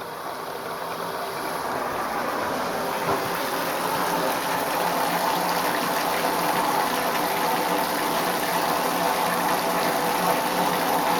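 Muddy water rushes steadily from a tap with a low mechanical hum underneath, fairly close and unbroken, no voices.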